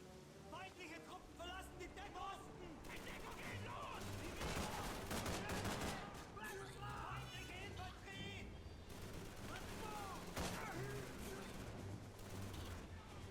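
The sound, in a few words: gunfire in the video game Call of Duty 3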